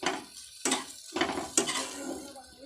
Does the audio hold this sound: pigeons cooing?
no